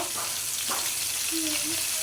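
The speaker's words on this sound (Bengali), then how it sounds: "এই যে মাছ ভালো করে এখন ভাইজে নিতেছি" Tilapia pieces rubbed with turmeric and salt fry in hot soybean oil in a kadai, giving a close, steady, crackling sizzle with faint stirring throughout.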